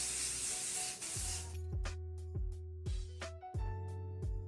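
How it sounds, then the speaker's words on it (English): A few sustained hissing bursts of L'Oreal Lock-It Weather Control hairspray being sprayed over hair, loud and close, then a series of light rhythmic knocks and clicks follows. "I'm going to be taking this L'Oreal Lock-It Weather Control Hairspray and spray it all over my hair"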